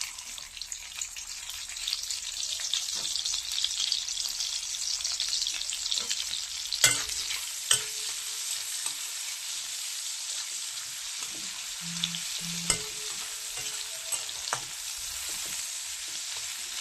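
Chopped onion frying in mustard oil in a pan, a strong bright crackling sizzle throughout, punctuated by a few sharp knocks and clinks of a stirring spoon against the pan.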